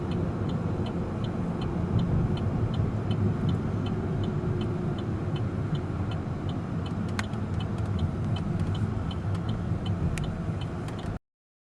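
Interior road noise from a Saab 9-5 cruising along a road, a steady broadband rumble with faint regular ticking like a turn signal, and no talking.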